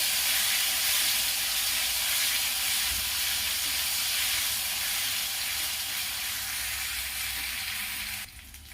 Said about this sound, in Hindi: इसमें 1 चम्मच लहसुन डालूंगी और लहसुन को थोड़ा भून लूंगी